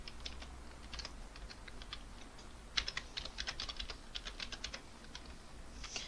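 An email address is typed on a computer keyboard, with quick, light, irregular key clicks in short bursts, close and fairly quiet over a faint background hum, no voices.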